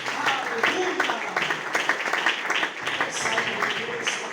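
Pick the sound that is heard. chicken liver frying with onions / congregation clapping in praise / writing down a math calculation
congregation clapping in praise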